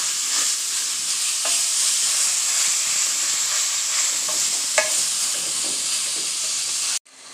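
Mince cooking in a pot for a Jamaican one-pot meal gives off a steady, even sizzle and hiss with a few faint clicks, continuous and close before cutting off abruptly near the end.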